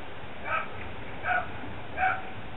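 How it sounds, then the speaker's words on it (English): A dog barks three times in the background, evenly spaced about three-quarters of a second apart, faint and distant over a low steady hum. "And you can probably hear my dog in the background."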